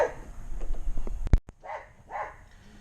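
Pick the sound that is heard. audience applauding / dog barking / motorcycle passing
dog barking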